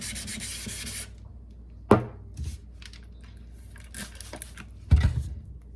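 A K390 steel knife blade is rubbed clean of sludge in a few brisk scrubbing strokes, a close dry rasping rub with a couple of sharp knocks, mostly quiet between, no talking.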